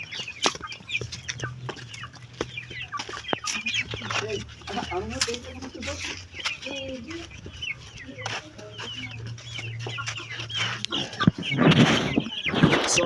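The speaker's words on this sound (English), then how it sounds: "So here are the chicks. This breed is Saso breed." Sasso breed chicks on a farm chirp and cluck in a busy, steady chorus close by, over a low hum, while a person talks over them.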